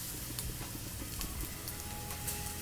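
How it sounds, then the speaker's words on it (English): Thin breadfruit slices fry in hot oil with a steady, close sizzle and some stirring clatter, continuous through the short moment without any voices. "we're just going to fry them now"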